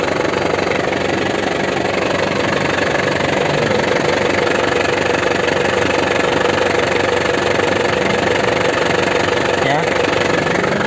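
A 2012 Isuzu Panther LS turbo diesel engine idles steadily and loudly up close, a dense continuous rumble with faint knocking, while someone talks over it throughout.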